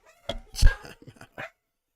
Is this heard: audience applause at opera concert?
no